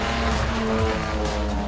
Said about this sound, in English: The crowd favourite was this 1973 Jaguar XJ6 Series 1, piloted by Ashley Ellis.